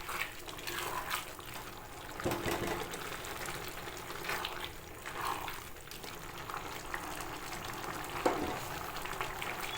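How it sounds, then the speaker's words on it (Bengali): A spiced curry of jackfruit seeds and pumpkin greens with turmeric, cumin and coriander powder bubbles in a pan, a continuous wet simmering and popping texture with a few louder bursts, no voices. "গুঁড়ো মশলাগুলো দিয়ে ভালো করে ফুটে গেছে"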